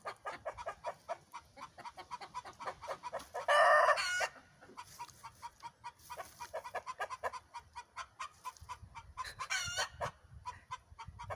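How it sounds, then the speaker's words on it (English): A flock of chickens clucks in quick, busy rhythm, close and continuous, with a rooster crowing loudly in a brief burst and another crow near the end. "It's like a chicken celebration."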